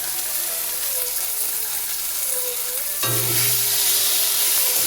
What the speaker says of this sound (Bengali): চিংড়ি মাছটা একবারে মশলার সাথে ভেজে নিচ্ছি